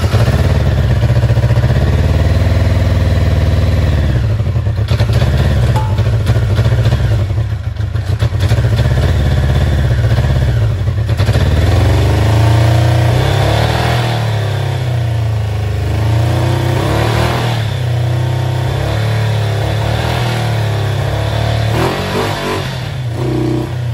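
A Honda CB550 Nighthawk motorcycle engine runs loudly and steadily up close, its low rumble rising and falling with revs amid mechanical clatter, and no talk.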